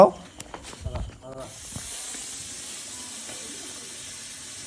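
A voice speaks briefly, then a steady, fairly loud hiss begins and continues without a break, a lit firecracker fuse burning.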